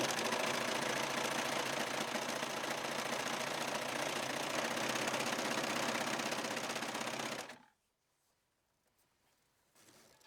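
A sewing machine stitches swimsuit fabric, running in one loud, steady, close whirring burst for about seven seconds before it stops dead, leaving near silence.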